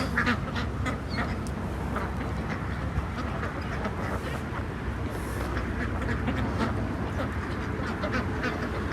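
Ducks quack repeatedly in a noisy outdoor setting, calls overlapping against a steady background rumble.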